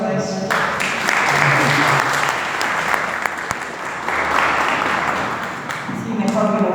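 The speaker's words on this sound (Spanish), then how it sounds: "Un fuerte aplauso para eso." Loud, sustained applause from an audience at an evening talk about Saint Francis of Assisi; thick, continuous clapping fills the room, with voices heard at the start and end.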